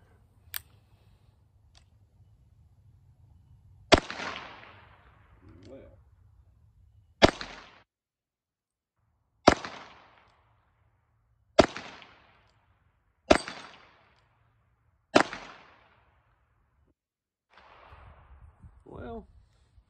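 A western six-shooter revolver fires six sharp, separate shots at an outdoor range target, each crack ringing briefly into silence with steady gaps of about two seconds, loud and close to the shooter.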